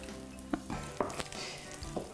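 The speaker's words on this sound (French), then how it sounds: "Mélanger ça." Mashed potatoes being stirred with milk for a pâté chinois, giving a few soft, wet, quiet spoon strokes spaced about half a second apart.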